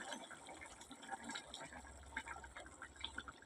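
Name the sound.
fish curry simmering in a pot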